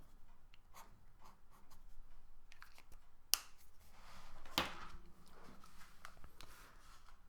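Someone writes the Chinese numeral seven by hand, giving soft, close, scattered pen or pencil strokes on paper in a quiet room, with a sharper tick or two along the way.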